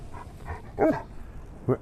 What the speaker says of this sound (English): Show everybody that you are a good dog.